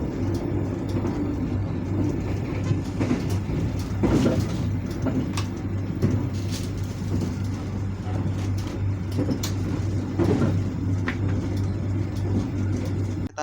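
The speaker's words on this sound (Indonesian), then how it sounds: "Lumayan ngebut juga ya ini kereta." Interior of the Malabar passenger train on the Bandung to Pasar Senen route, running fast on double track: a steady, loud rumble and low hum of the carriage with rhythmic rattles and clunks from the rails throughout.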